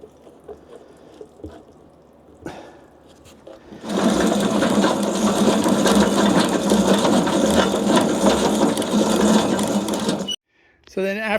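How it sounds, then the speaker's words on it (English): Grenache grapes are fed through a destemmer-crusher that smashes them and ejects the stems, a loud steady mechanical churning that starts after some quiet handling sounds and cuts off near the end. "So it's smashing the grapes,"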